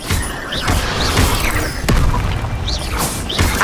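Incendio fire spell cast in Hogwarts Legacy: loud whooshing blasts with crackling bursts and a sharp impact near the middle, repeated over a rumbling, busy game soundscape.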